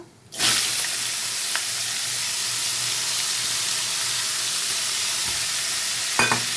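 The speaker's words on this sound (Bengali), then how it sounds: "এখন লাউটাকে আমি ফোড়নের সাথে খুব ভালো করে একটু ভেজে নেব এটাকে আমি হাই ফ্লেমেই ভাজবো" Chopped bottle gourd hits hot oil with tempering spices over a high flame, setting off a loud, steady sizzle close by, with a couple of brief stirring clinks and no talking.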